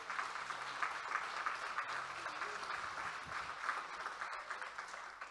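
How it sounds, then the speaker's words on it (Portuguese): A church congregation applauds continuously during a sermon, a steady, moderately distant wash of clapping in a large room. "Vai aplaudir a Deus, vai. Aplaude mesmo,"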